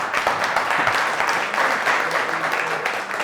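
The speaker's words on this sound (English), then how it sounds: "give them a big round of applause real quick" A room full of people at a business seminar on AI gives a sustained round of applause, a thick, even wash of clapping that holds steady for the whole stretch with no voices over it.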